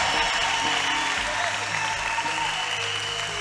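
A congregation applauds in a dense, continuous wash of clapping, steady and fairly loud from start to end, with faint voices mixed in.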